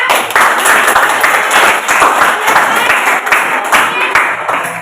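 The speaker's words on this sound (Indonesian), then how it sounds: "kita beri dulu tepuk tangan untuk kelompok monyet ya" A classroom of students claps for a group named the monkey group after its presentation, dense loud applause from many hands close by, sustained for several seconds.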